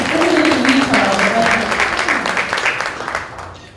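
Applause from a conference audience at an economic summit, a dense burst of many hands clapping that gradually thins and fades over several seconds, with a voice faintly mixed in at the start.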